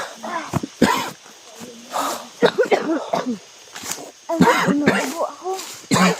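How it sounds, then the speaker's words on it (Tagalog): Several coughs scattered among voices talking and rustling movement, close and loud, in a busy outdoor scene. "Inuubo ako."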